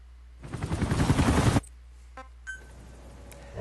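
Giant mech Sahelanthropus in Metal Gear Solid V unleashing a rapid, loud burst of automatic gunfire for about a second, followed by a few sparse clicks and faint game sounds.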